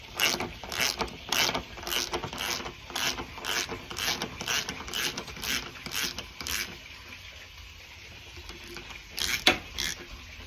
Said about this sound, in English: we're now going to take the anode out, which is a 17mm socket